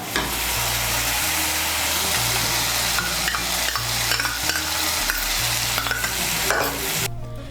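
Thick cashew paste being stirred into hot oil for an egg korma, a steady broadband sizzle with intermittent spoon scrapes against the pan, close and continuous, plus a low background hum.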